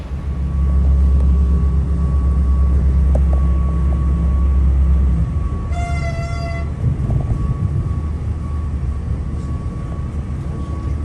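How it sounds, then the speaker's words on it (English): Loud, steady rumble of a passenger train running toward Belfast Grand Central in Northern Ireland, with a brief tonal horn or whistle sounding about midway through the continuous low roar. "We're going to take this train here to Belfast Grand Central."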